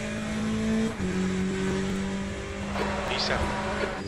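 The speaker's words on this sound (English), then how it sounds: "there's a faster car approaching" A race car engine hums steadily in the Le Mans Ultimate racing game, with a sustained tone that shifts pitch as a faster car closes in. Speech runs over it and a brief higher whine comes near the end.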